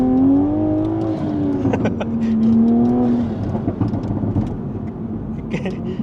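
A 2020 Toyota Supra, lowered, takes off in second gear with engine revs rising and tires losing traction, loud and close with rumbling road noise and a few people talking over it.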